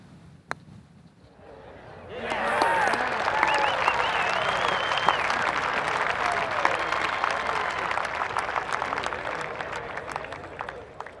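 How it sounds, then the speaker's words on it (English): A virtual gallery at a golf course in Tiger Woods PGA Tour 08 bursts into applause and cheering after a shot. The clapping swells after a quiet start and carries on loud and steady, mixed with whistles. "Fantastic shot. The crowd's loving this."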